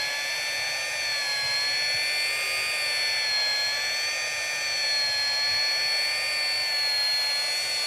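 A rotary polisher whines steadily against a Vauxhall Corsa headlight during restoration, a high, even, close drone with slight pitch wavering throughout, with no talking.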